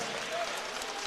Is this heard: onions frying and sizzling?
no